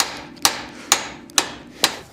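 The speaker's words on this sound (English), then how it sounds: "And then just hammer this one out as well." A hammer strikes the tie rod on a 1967 Chevy Impala during front suspension teardown, landing four sharp, close metallic blows at an even, steady rhythm with no talking.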